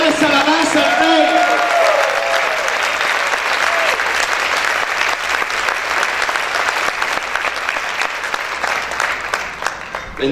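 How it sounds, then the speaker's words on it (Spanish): Church congregation applauding loudly and continuously, a dense, sustained wash of clapping with some voices and shouts mixed in throughout. "Aplaude fuerte al Señor"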